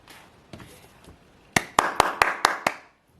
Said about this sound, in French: n'oubliez pas de vous applaudir